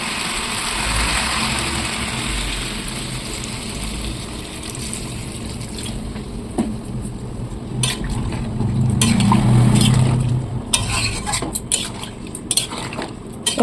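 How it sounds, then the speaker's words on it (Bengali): Jackfruit and potato curry stirred in a pan after water is added, with a steady bubbling hiss and simmer and scattered light scraping clinks of a spoon against the metal, close and fairly loud, with no talk. "ভালো করে একটু নেড়ে চেড়ে দেবো"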